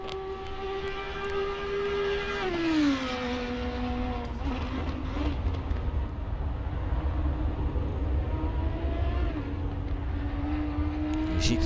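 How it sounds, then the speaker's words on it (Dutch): The V10 engine of an Audi R8 LMS GT3 in Assetto Corsa Competizione drones loudly and steadily, dropping in pitch on a downshift and then slowly climbing again as it accelerates. "als je van V10's geluid houdt, is dit wel een hele fijne auto van geluid"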